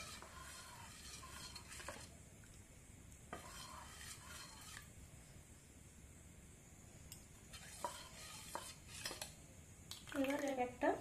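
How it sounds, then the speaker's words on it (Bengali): Semolina batter for sujir ruti being stirred as it thickens, giving soft, close scraping and swishing in quiet bursts with short pauses, ending in a few brighter clinks of utensil against bowl. "এবার মেশাতে মেশাতে ঘন হয়ে এসছে।"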